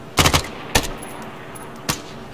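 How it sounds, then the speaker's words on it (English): Gunfire from ARMA 3 in a Vietnam-era setting: a short automatic burst, a second brief burst, then a single shot after a pause, sharp and fairly close over a low ambient background. "They're firing."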